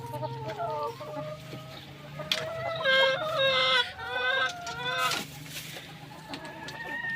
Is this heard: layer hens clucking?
yes